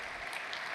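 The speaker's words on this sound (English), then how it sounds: "let's see a round of applause." Brief, faint applause from a tech keynote audience, a steady distant patter of clapping with no talk over it.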